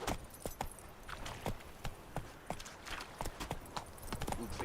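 Roach, Geralt's horse in The Witcher 3 video game, gallops with a steady series of sharp, close hoof clip-clops over a busy ambient background.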